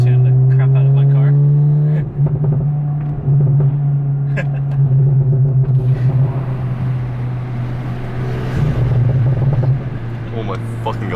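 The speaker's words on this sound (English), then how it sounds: "Can you guys hear the turbo noise?" Straight-piped, burble-tuned VW MK7.5 GTI with its engine and turbo, heard from inside while driving: a loud, steady low drone that shifts in pitch, with a person talking and exclaiming over it.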